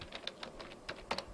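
Someone types an address on a computer keyboard, producing a quick, irregular run of faint, close key clicks.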